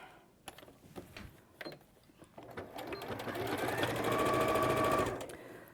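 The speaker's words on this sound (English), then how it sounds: "we're literally going to sew down that raw edge" A sewing machine stitches down a raw fabric edge on a bag project, its motor whirring steadily and building to a loud continuous run after a few short starts, with faint talk early on.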